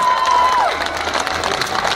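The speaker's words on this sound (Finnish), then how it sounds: "Antakaa raikuvat aplodit Petri Ojanperälle!" An audience at a Naga Morich chili eating championship cheers and applauds for contestant Petri Ojanperä, a loud burst of clapping and shouting after a brief whistle-like tone.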